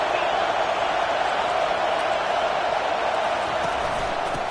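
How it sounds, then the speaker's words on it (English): A college football stadium crowd at Stanford against Texas roars as a dense, steady wash of noise, loud and unbroken throughout with no clear individual voices. "this crowd trying to help keep them there"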